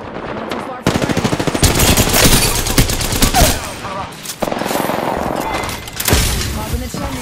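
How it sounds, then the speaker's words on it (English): Incoming automatic gunfire in Apex Legends, loud and sustained with repeated rapid bursts and a few thuds, and a voice talking over it. "Hey, I'm getting shot!"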